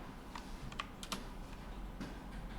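Typing on a computer keyboard during a coding lesson, a few soft, scattered key clicks over quiet room noise with no voice.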